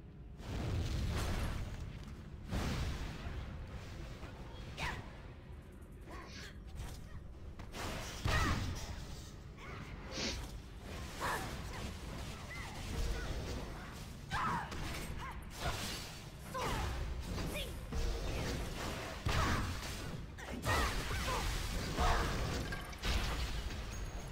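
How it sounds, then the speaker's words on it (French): Repeated explosions and whooshing blasts from the TERA video game, a dense, loud run of booms, crashes and bursts spread across the whole stretch with no talk over them. "Oh, j'adore, ça fait des explosions."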